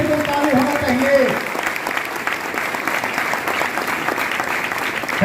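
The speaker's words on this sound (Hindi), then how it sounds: "बिल्कुल एक जोरदार ताली के साथ में हम लोग उनका स्वागत करेंगे।" Loud, sustained applause from a large audience at a packed seminar in a garden venue in Ranchi, filling the hall steadily from start to finish, with a voice briefly heard over it at the beginning.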